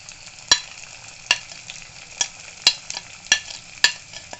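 Onions and green chillies sizzle in a hot pan for dal tadka while a spoon scrapes and stirs in regular strokes, roughly six distinct stirring knocks over steady frying hiss.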